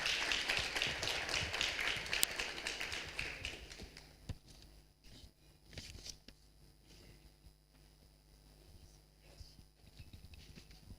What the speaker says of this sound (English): A hand of applause to Ms.